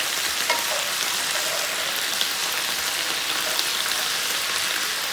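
Tofu and mixed vegetables sizzle steadily in a hot pan, a loud dense frying hiss like rain with faint scraping as the pieces are mixed.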